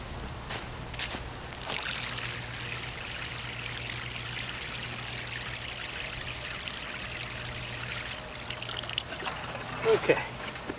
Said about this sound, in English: I'll water this one over here.